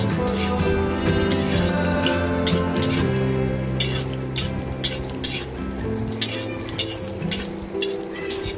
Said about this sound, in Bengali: ভালো করে গরম হয়ে গেলে এতে দিয়ে কাজু বাদাম এবং কিশমিশটা ভেজে নিচ্ছি।